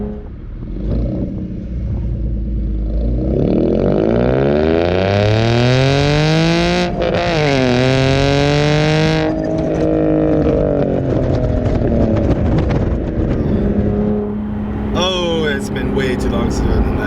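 A car running an MPT 87 octane tune accelerates hard in first gear, its engine note climbing loudly through the revs before easing off and rising again, close and continuous, with no voices over it.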